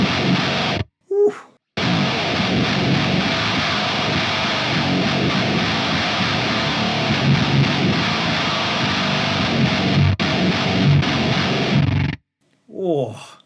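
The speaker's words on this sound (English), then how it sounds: "Let's also try this one with the swollen pickle engaged for some big, thick, heavy hardcore stuff." Electric guitar through a Swollen Pickle fuzz pedal chugs out thick, heavily distorted hardcore riffs, loud and continuous for about twelve seconds with a brief break near the start, then stopping abruptly.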